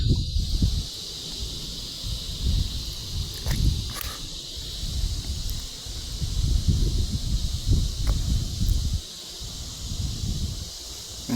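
Gusty outdoor wind buffets in uneven low rumbling surges across the whole stretch, while a steady high insect drone, like cicadas, hums continuously behind it.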